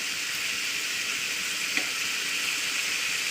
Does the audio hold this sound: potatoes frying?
yes